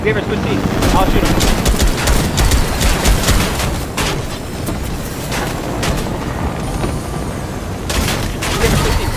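Gunfire in the video game Fortnite, bursts of rapid shots in several clusters over a steady helicopter drone, with players talking throughout.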